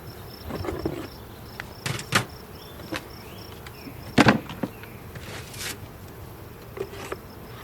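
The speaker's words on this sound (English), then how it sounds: "So the bees are coming and going right here." Bees fly in and out at the entrance of a hive, a quiet background hum broken by several brief, sharp buzzes as individual bees pass near.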